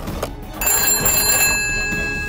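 A telephone rings with a bright, brief electric bell trill, close and clear against a quiet background.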